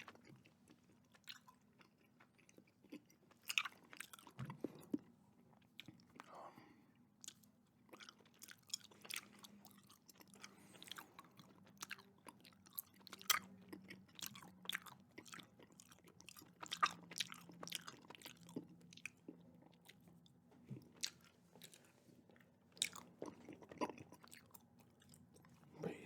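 Close, wet chewing of Kraft macaroni and cheese gummy candies, with soft squishy bites and smacking in an irregular rhythm over about twenty-five seconds, no talking.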